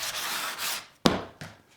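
Hand sanding of poplar crown molding made to copy ornate plaster crown, with soft back-and-forth rubbing strokes followed by a couple of sharper, closer scrapes that trail off.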